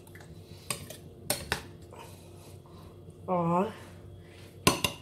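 Chopped onion, tomato and cucumber are mixed in a bowl, with a few sharp, close clinks of a utensil against the dish spread across the moment and a short spoken phrase in between.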